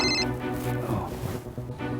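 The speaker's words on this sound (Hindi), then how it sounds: "अरे किसका फोन आ गया?" A telephone rings steadily in an indoor setting, a continuous electronic ringtone that fills the room at moderate loudness with no talk over it.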